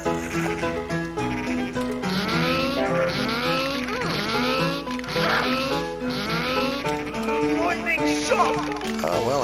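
Cartoonish bleats sound over busy game music and effects, with several quick wavering cries overlapping through the mix.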